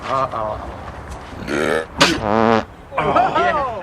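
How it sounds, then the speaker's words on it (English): A man makes a loud, drawn-out burp mixed with a snorting, grunting sound, several voiced bursts in a row with short breaks between them. "I got a burp snort coming"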